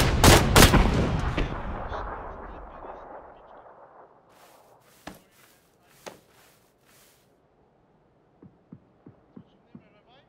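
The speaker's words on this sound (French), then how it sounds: "il m'a pitché une grenade" A grenade explodes in a shooter video game, opening with a loud booming blast that slowly rumbles away, followed by scattered sharp gunshots, one pair and then a quick run of shots near the end.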